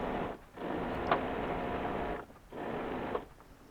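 Sewing machine stitching seams through heavy webbing for a junk rig sail, a steady close whirring run broken by a brief pause, then a second burst of stitching; no talking.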